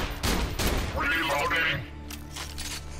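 A shotgun firing in Borderlands 2, two loud blasts in quick succession followed by a booming tail and lingering game noise, with a voice speaking over part of it.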